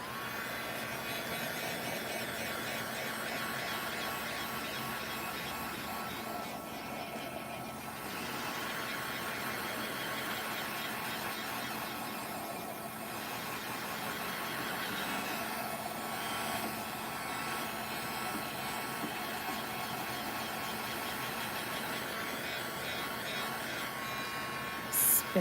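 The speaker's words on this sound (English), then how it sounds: "I'm going to turn the heat gun on again, see if I can dry this off" A heat gun blows steadily to dry fresh paint, a continuous loud broadband whoosh and hum that holds for the whole stretch with only slight dips in level.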